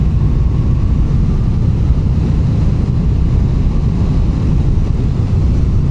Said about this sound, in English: with their transverse V engine, V twin engine